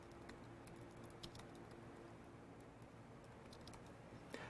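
A burst of computer keyboard typing, a quick irregular run of soft key taps over a faint steady hum, fairly quiet and with no voices.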